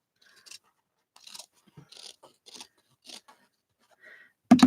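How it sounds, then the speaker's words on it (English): Scissors snip through a strip of carpet tape in a series of short, crisp cuts separated by pauses, close by and fairly quiet, ending with a louder thump. "so I'm going to cut it"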